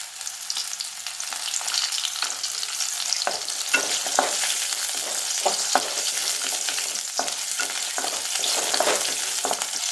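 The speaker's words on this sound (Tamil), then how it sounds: "இப்போ எண்ணெய் சூடாயிடுச்சு. இதில் சின்ன வெங்காயம், அதோட இந்த பூண்டு பல்," Small shallots, garlic cloves and tamarind fry in hot oil with a continuous bright sizzle, broken by scattered pops and spatters throughout, with no talking.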